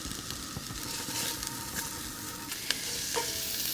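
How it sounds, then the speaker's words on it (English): Onions and fresh thyme sautéing in a pan for venison risotto, a soft, continuous sizzle with light stirring scrapes and a few sharper pops, close and quiet. "we're going to add our onions. We're going to let those get nice and soft, and they're going to saute for about 2 minutes"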